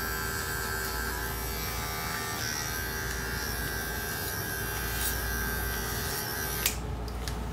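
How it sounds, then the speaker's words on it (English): An Andis hair clipper cuts hair clipper-over-comb, a steady close electric buzz with a constant hum that ends in a few brief clicks and snips. "So as I work down clipper over comb, in those tighter areas where we were a little shorter, I close the clipper up and work my way around."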